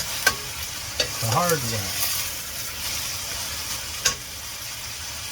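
Onions sizzle in a pan for mushroom soup with a steady frying hiss, a few clacks of a stirring utensil, and a brief spoken phrase over the top.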